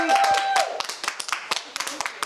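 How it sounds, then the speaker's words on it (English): Audience at a school assembly clapping, a burst of loud applause at the start that thins into scattered, uneven claps and fades over a couple of seconds. "let's give them a round of applause"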